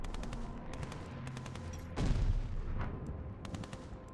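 Explosions from a bombing run in the Call of Duty Vanguard video game, with a heavy boom that rumbles on for a moment over a steady background of rapid gunfire crackle.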